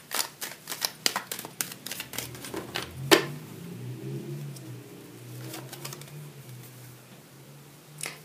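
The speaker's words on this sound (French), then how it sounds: "Je vais battre les cartes pour la 4e carte." Tarot cards being shuffled by hand: a quick run of crisp riffling clicks and papery snaps over the first few seconds, close and fairly quiet, then only faint low room hum with no talking.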